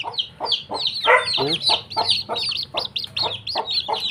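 Brahma chickens crossed with native fowl cluck busily nearby in a dense stream of overlapping clucks and short squawks, close and fairly loud.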